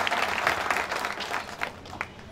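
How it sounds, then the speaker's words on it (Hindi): Scattered applause from a crowd at an election rally, a short burst of clapping that fades quickly, moderately distant and without voices on top. "इधर से कम ताली हो गया"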